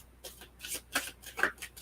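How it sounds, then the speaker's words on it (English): A deck of tarot cards is riffled and shuffled by hand in several quick, close bursts of crisp flapping, fairly quiet with no talk. "And so I'm going to shuffle and then come back to Melanie"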